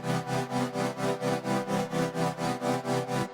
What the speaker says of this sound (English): There's this synth I made here.